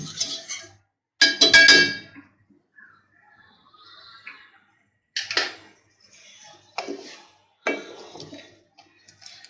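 A metal spoon clinks and scrapes against a pot while boiling almond milk is stirred, giving sparse bright taps and short rattling bursts separated by near silence, close and clear.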